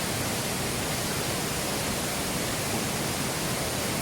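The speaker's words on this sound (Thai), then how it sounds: "วันนี้เรามาอยู่ที่ น้ำตกบริพัตรนะครับ" Boriphat waterfall in Songkhla, Thailand, roars as a dense, unbroken rush of falling water, loud and close, with no voices over it.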